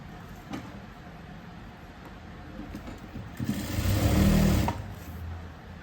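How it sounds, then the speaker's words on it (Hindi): Sewing machine stitching a blouse, a faint background hum that swells into a louder, steadier whirring run for about a second before easing off, with no talk over it. "तो मैं पहले इसमें अंदर की सिलाई लगाऊंगी, फिर बाहर की सिलाई लगाऊंगी।"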